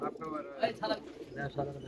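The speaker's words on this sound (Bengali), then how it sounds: "আবু তালেব ভাই একটু সাদা কবুতরটা দেখান" Pigeons in a loft give soft, low coos, close by and fairly quiet, partly overlapped by a person talking.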